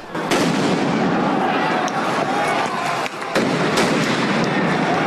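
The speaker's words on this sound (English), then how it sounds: "Police firing stun grenades, beanbag projectiles, and rubber bullets, tear gas flying." Police firing stun grenades and rubber bullets at protesters during a street protest, with a dense, continuous crackle of blasts and shots, sharp louder bangs standing out above the noisy, chaotic crowd.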